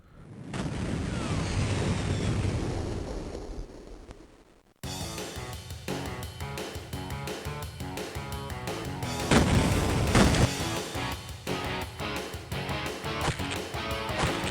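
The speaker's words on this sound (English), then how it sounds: "Then I switched to Duke Nukem with the sound canvas." Duke Nukem on a PC with a Sound Canvas: a rumbling explosion swells and fades, then driving game music kicks in abruptly and runs loud and steady with punchy hits, with no speech.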